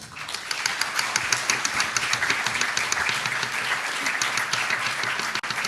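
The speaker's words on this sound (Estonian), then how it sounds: "Palun aplaus." Steady, dense applause from a large crowd at an awards ceremony fills the room, holding at an even level throughout with no pause.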